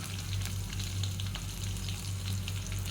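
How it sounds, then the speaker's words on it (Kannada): Dried red chilies, garlic and curry leaves frying in a pan for rasam give a steady, continuous sizzle with faint crackles throughout, close and fairly quiet, with no talking. "ಫ್ರೈ ಮಾಡ್ಕೊಳ್ಳಿ"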